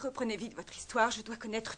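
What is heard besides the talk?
None of the usual background noises is heard.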